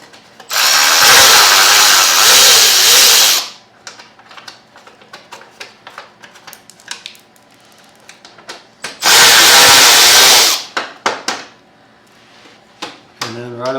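A power screwdriver whirs loudly in two sustained bursts of about three and one and a half seconds, removing fairing screws on a Lifan KPR 200 motorcycle, with close clicks and clatter from handling the parts in between.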